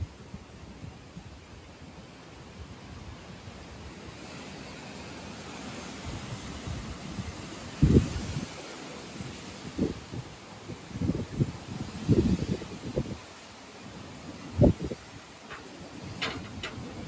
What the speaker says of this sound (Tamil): செம்ம காற்று, மழை வரப்போகுது.